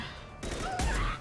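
Sniper rifle fire in Mass Effect 2, two loud close blasts in quick succession with heavy low boom and ringing tail, over game sound effects.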